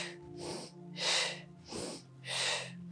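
Slow, deep yoga breaths, about five strong airy inhales and exhales in a steady rhythm, close and fairly loud over a faint soft music bed.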